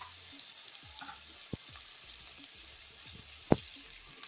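Spices, potatoes and tomatoes sizzle softly in a pan for a vegetarian cabbage curry, with a quiet steady fry broken by a few sharp clicks of a spoon against the pan.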